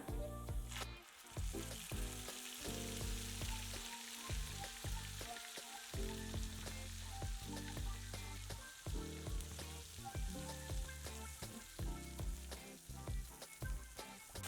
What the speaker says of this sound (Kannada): ಈರುಳ್ಳಿ ಪೇಸ್ಟೆಲ್ಲ ಕೆಂಪಗಾಗುವವರೆಗೂ ಫ್ರೈ ಮಾಡ್ಕೊಳ್ಳೋಣ